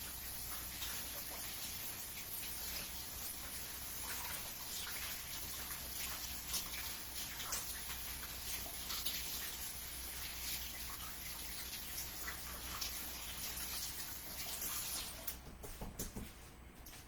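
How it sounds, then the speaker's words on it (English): Hands are washed under a running kitchen tap, a soft continuous splash of water that stays faint and even before cutting off near the end. "So let me wash my hands again."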